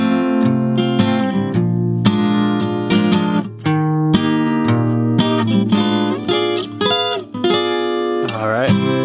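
Guitar plays a jazzy chord movement, a clear, close sequence of ringing strummed chords with shifting inner voices and short pauses between changes, played alone.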